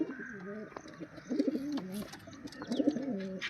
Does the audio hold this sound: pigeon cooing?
yes